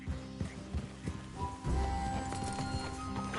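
Horses walking with a steady clip-clop of hooves in Red Dead Redemption 2, close and fairly loud, with a neigh or snort and ambient game sounds, no talking.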